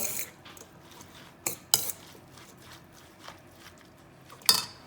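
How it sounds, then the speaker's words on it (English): Fennel and lemon juice are mixed in a bowl, heard as soft close scraping broken by a few sharp utensil clinks against the dish, quiet and without talking. "Mix well."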